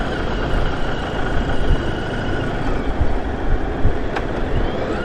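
A train rumbles past along Route 66 near Albuquerque and Grants, New Mexico, a steady broad roar at moderate distance that stays even throughout with no speech.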